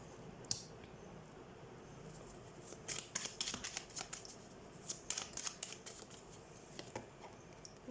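Tarot cards are shuffled and drawn in a quiet room, a run of crisp papery flicks and snaps clustering in the middle and trailing off toward the end, with no talk.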